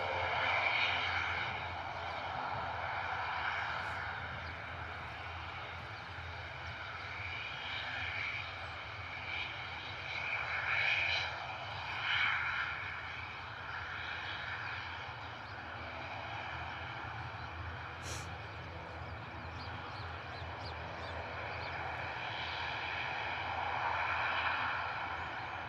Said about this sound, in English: Sounds like it might be a bit of a turn and burn for our Aer Lingus ATR.